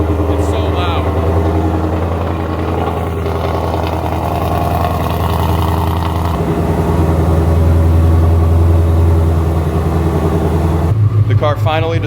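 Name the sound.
supercharged Mustang GT engine start-up and idle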